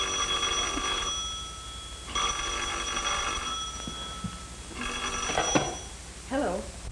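Telephone ringing in a 1939 suspense thriller film: an old bell phone rings in several long bursts with pauses between, fairly close, and a voice speaks at the very end.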